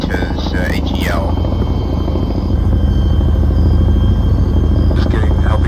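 A Chinook helicopter in the video game Arma 3 drones with a loud, steady rotor rumble and buzz throughout, close and continuous, with faint radio-style chatter in the background.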